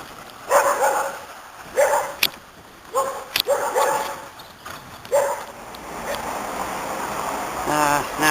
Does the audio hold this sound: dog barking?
yes